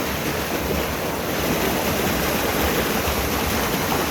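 Mt. Maarat Falls in San Mateo, Rizal, pours in a loud, unbroken rushing roar close by, mixed with gusts of wind buffeting the microphone, and no one speaks.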